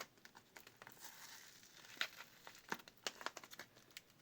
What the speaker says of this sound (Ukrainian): Зараз попробую відклеїти отут акуратненько.